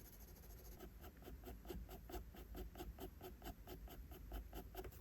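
Pencil strokes coloring the shadow under the lips in a drawing, a steady close rhythm of soft repeated scratching scribbles, faint and continuous.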